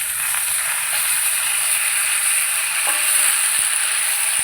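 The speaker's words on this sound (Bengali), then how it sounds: "বন্ধুরা আমি ফোড়ন দিয়ে দিয়েছি কালো জিরে শুকনো লঙ্কা, এবার আমি মূলোটা দিয়ে দিচ্ছি" Thin-sliced radish hits hot oil with nigella seeds and dried red chili, cooked outdoors in winter sun. A loud, close, continuous sizzle holds throughout, with a few faint clicks and stirring taps.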